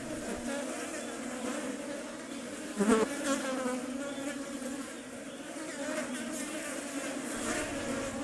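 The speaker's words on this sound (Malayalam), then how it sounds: "ആ മൃതദേഹത്തിന് ചുറ്റും ആർത്തലച്ചുകൊണ്ടിരുന്ന ഫ്ലഷ് ഫ്ലൈസ് എന്ന ഈച്ചകൾ" Flesh flies buzzing around an animal carcass in the forest, a close, continuous droning hum that swells briefly midway.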